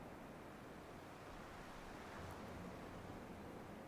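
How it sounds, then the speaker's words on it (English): Waves washing against a shoreline in the game Dear Esther, a steady broadband rush of surf and wind that holds at an even level throughout, with no voices. "I'm just listening to the sound of the water"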